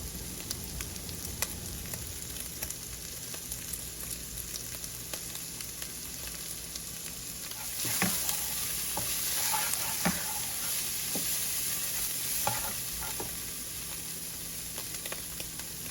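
Ground beef browns in a hot pan with a continuous crackling sizzle, broken by occasional scraping stirs and brief louder bursts midway, close and steady throughout.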